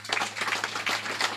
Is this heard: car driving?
no